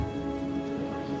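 Rain falls in a steady, close patter of drops on a surface, a dense hiss with faint low rumble underneath, unbroken for a brief moment with no voices.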